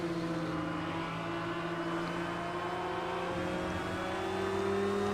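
A race car engine in Project Cars 2 holds a loud, steady high drone with rising pitch as the car pushes through the last corners of the 24 Hours of Spa, with no talking.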